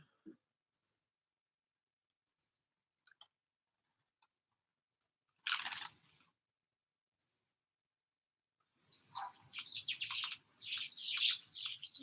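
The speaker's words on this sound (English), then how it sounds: "I've got so many birds out there." Birds chirp and call outdoors near a garden, with brief scattered tweets early on, then a dense, louder burst of overlapping chirping and squawks toward the end.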